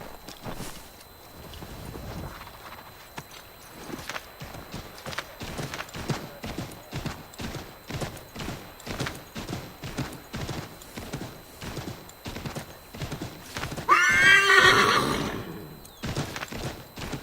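Game-world horse hooves clip-clop in a steady rhythm through most of the passage, then a loud whinnying neigh rises near the end, all in Assassin's Creed 3 Remastered with no talk over it.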